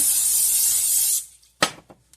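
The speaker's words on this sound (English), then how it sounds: "Spray your bowl." A single sustained hiss of cooking spray into a bowl lasts about a second, followed by a few soft knocks and taps nearby.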